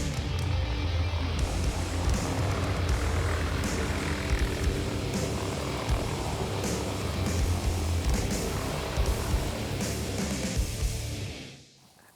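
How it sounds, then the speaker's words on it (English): A helicopter flies overhead, its loud, steady engine and rotor roar filling the air before cutting off abruptly at the end. "it's nice of y'all to show up in the helicopter"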